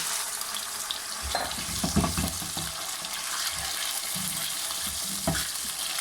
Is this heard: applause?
no